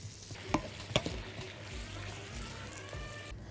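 Chopped onions and peppers warm in a pan for Syrian chicken fatteh, giving a faint, steady low sizzle with a couple of sharp utensil clicks near the start.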